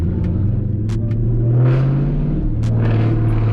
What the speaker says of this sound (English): if you need to speed up going backwards, just hit the gas like this